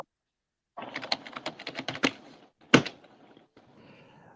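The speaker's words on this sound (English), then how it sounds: "Oh, he's typing the essay right now." Rapid keystrokes on a computer keyboard in a quick burst of clicks, then one louder thump and a few quieter taps, close and alone with no talk.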